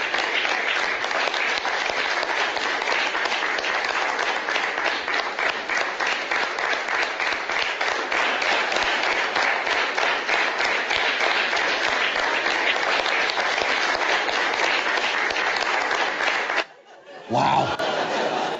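A crowd applauds in a continuous, dense wash of clapping that holds steady for a long stretch, with scattered chatter and chuckles mixed in before it abruptly cuts off near the end.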